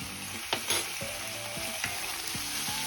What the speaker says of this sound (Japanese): まんべんなくかき混ぜて、この水分がね、また煮切れれば OK かなと思います